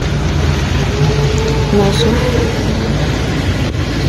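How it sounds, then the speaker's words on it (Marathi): Mumbai rain falling as a dense, steady wash of noise, loud and close, with faint background murmur blended underneath. "निम्म्या वाटेत आले तोपर्यंतच पाऊस चालू झाला"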